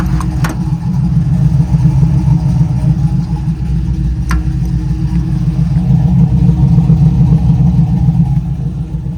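A cammed 5.3L V8 in a 1968 Chevelle rumbles loudly and deeply from up close, with a heavy, continuous engine drone that holds strong through the drive and has no talk over it.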